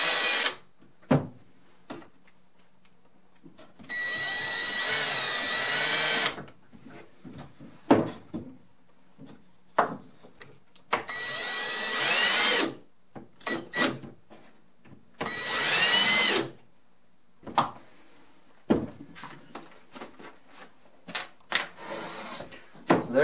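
A power drill boring holes in a wooden block runs in several loud whining bursts of a few seconds each, separated by quiet pauses, clicks and handling knocks, close up.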